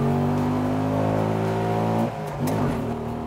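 A Bajaj Qute's small engine drones loudly up through first gear, then dips at a gear change and climbs again, with someone talking over it.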